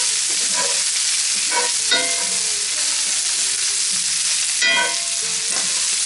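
Brussels sprouts fry in melted butter in a pan, giving a loud, continuous hissing sizzle with occasional scraping stirs and clinks breaking through it, close up and with no one talking.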